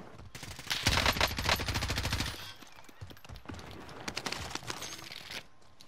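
Rapid automatic gunfire from a video game crackles in dense bursts, loudest in the first couple of seconds, then thins into scattered shots and rattles.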